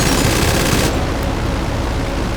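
Machine gun fire in the video game GTA 5 Online rattles nonstop, loud and dense, as one unbroken burst with no voices over it.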